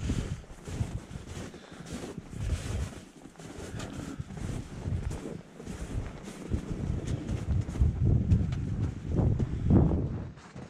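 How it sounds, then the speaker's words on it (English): Strong wind gusting across a frozen lake during ice fishing in bitter cold, a loud, rough roar buffeting the microphone in uneven surges throughout. "Ooh, that wind's whipping."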